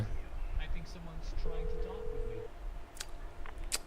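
In Grand Theft Auto V, a phone's dialing tone plays as a single sustained electronic beep lasting about a second, amid game sounds, with a person talking over it.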